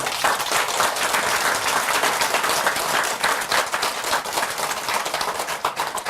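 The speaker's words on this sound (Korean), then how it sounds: "박수 쳐주세요." Audience applause fills a Buddhist dharma talk hall, dense steady clapping from many people sustained at an even loudness throughout with no speech over it.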